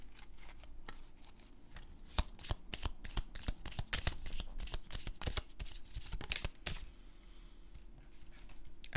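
A deck of affirmation cards is shuffled close up, with dense, rapid riffling and slapping bursts for several seconds, then a quieter, softer rustle at the end.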